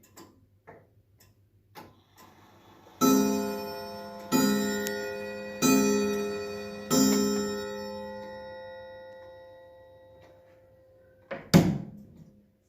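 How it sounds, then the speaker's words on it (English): A clock with a humidity and temperature display strikes on a pair of chime rods, four evenly spaced ringing chime notes that decay slowly, with soft ticking and a few light knocks before and after. "It strikes on a pair of chime rods,"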